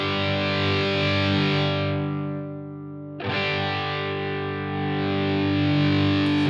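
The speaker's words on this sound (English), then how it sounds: "we get more saturation when we hit those preamp tubes" Distorted electric guitar runs through a Helix amp model pushed into preamp tube saturation, sustaining a thick, buzzing chord that thins briefly near the middle before ringing on loud and alone.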